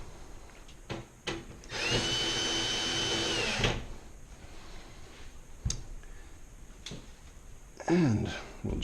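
Power drill-driver tightening screws on an oven range door, a steady buzzing whir lasting about two seconds, followed by short clicks and taps of handling nearby.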